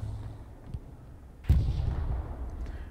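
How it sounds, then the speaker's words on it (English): Artillery fire in the World War II shooter game Hell Let Loose: a soft distant thump followed by one heavy, close boom with a rumbling tail, set against a low battlefield background. "Doing some good artillery work there."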